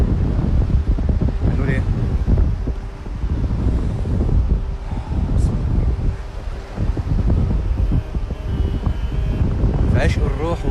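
Wind buffets the microphone outdoors, a loud, continuous low rumble with gusty surges throughout, while someone speaks over it.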